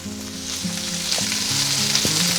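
Potatoes sizzle steadily in hot oil in a pan, a close, continuous frying hiss with a low hum underneath and a few soft stirring knocks, no voices.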